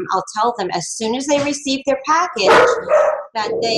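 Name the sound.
dogs barking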